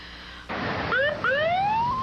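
An ambulance siren starts up after a burst of noise, its wail rising in two sweeping tones, loud and close.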